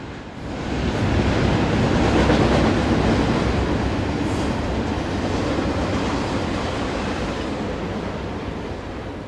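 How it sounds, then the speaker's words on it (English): A heavy freight train rumbles past close by on the CPR main line in Wolseley, Saskatchewan, a loud continuous roar with rattling wheels that slowly fades. "One of the thousands of freight trains that has rolled west along the CPR main line"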